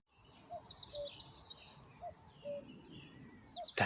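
A cuckoo calls along a river trail between Stowmarket and Ipswich, a few faint, distant two-note calls repeating over quiet outdoor ambience.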